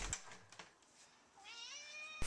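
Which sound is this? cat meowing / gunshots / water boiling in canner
cat meowing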